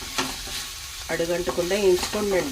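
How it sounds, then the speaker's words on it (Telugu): Green chillies frying in a little oil while being stirred produce a close sizzle with quick scraping strokes and tonal squeaks as the pieces are pushed around the pan. "ఇట్లా అడుగంటుకోకుండా వేయించుకోండి"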